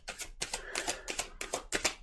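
Tarot cards being shuffled make a series of quick crisp riffling bursts, about six close rustling flutters in a steady rhythm, with no voices.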